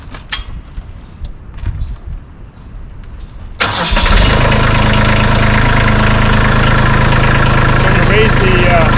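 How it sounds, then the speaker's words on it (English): A Kubota tractor engine cranks and catches partway through, then settles into a loud, steady diesel idle; quieter handling noises come before it starts. "I'm going to start the tractor."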